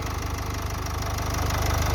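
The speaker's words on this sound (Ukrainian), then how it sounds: "Так от працює мотор." A 2012 Renault Koleos with a 2.0 dCi diesel engine and automatic gearbox idles up close, a steady, even low-pitched rumble with a fast regular knock that holds constant throughout.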